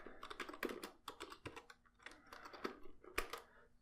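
Computer keyboard being typed on while a password is entered, a quiet sequence of irregular clicking keystrokes close by.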